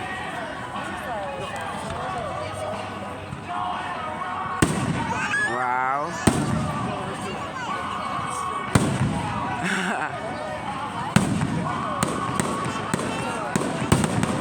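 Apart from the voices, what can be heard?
fireworks show exploding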